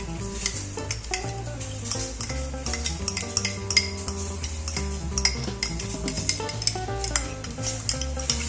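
A utensil scraping and clinking in a pan while tofu sisig with onions and sauce sizzles, rhythmic stirring strokes close and clear with no talking.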